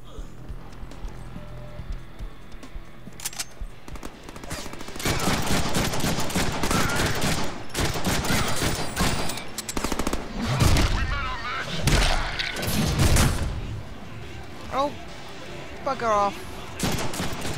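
Gunfire in the Deadpool video game: loud, dense bursts of shots and rapid automatic fire with chaotic effects, under occasional speech.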